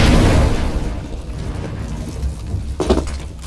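A grenade blast in Counter-Strike: Global Offensive opens with a loud, close boom that rumbles away, followed by a sharper crack near the end, with no talking.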